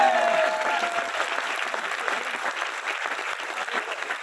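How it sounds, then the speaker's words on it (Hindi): An audience at a seminar event claps together, dense sustained applause that starts loud and then holds steady at a slightly lower level with no voices over it. "कुणाल जी ताली बजा दो यार, ये प्रोग्राम ऑर्गेनाइज करने के लिए"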